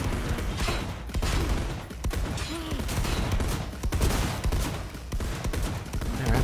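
Rapid bursts of gunfire in Cyberpunk 2077 crackle close and loud, a dense fusillade of overlapping shots with brief pauses between volleys.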